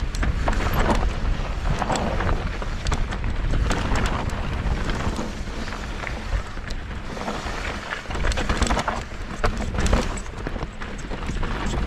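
Loud gusting wind batters the microphone for the whole stretch while mountain biking on Bootleg Mountain, Kimberley, BC, a dense rushing roar with uneven surges and deep rumbling buffets.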